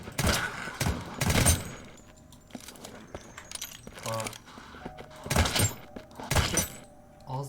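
Gunfire in the zombie video game Deathly Stillness: several loud bursts of rapid shots in clusters at the start and near the end, with quieter clicks and impacts between them. A person talks over part of it.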